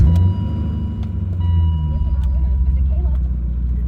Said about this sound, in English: Let's go ahead and start it up for you guys and get you guys a little bit of an idea of how healthy the engine is.